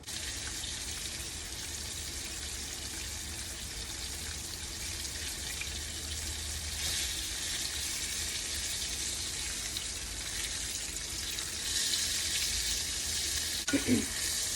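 Pounded round steak fries in a skillet, a steady soft hiss and sizzle with occasional brief knocks near the end, no talking.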